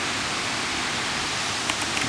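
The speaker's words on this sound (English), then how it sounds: "There's the waterfall." A waterfall rushes in a dense, continuous roar of broadband water noise, loud and steady from nearby, with a few brief splashy ticks near the end.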